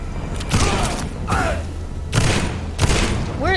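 Gunfire in Vampyr, several separate loud bursts spaced about a second apart, each with a ringing whistle-like tail, mixed with bits of voice.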